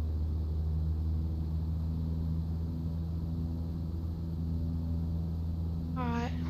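Simulated light aircraft engine in Microsoft Flight Simulator on approach to Camden, a loud steady droning propeller rumble with a constant low hum, ending in a brief rising tonal chirp.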